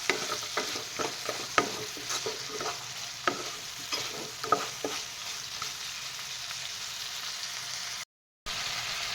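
Pigeon meat sizzles steadily in a pan for an Assamese-style pigeon curry, with repeated scraping stir strokes during the first half. Only continuous frying follows, with no talking.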